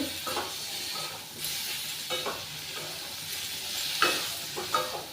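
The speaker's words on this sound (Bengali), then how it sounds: "টমেটোটা দিয়ে এবার ভালো করে আর একটু ভাজিয়ে নিচ্ছি" Chopped tomatoes sizzle and fry in a pan of khichuri base while a utensil stirs them in several scraping bursts, close and steady, with no talking.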